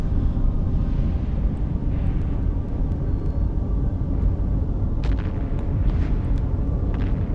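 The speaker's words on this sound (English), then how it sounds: "these like distant explosion sounds are definitely good in my book" Low, continuous rumbling from EVE Online space combat, with distant explosions as muffled booms under a steady roar and a few faint sharper cracks near the end.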